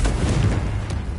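Confringo blasting spell going off in Hogwarts Legacy, a single loud, close booming explosion with a heavy low rumble that fades over about a second.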